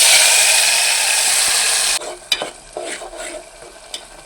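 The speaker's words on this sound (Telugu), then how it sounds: "పట్టుకున్న టమాటా ఆనియన్స్ పేస్ట్ అయితే వేసేసుకుందాం" Tomato and onion paste hits hot oil with cumin seeds for chicken curry, starting as a loud, dense sizzle that suddenly drops to a softer frying hiss broken by scattered clicks and stirring scrapes.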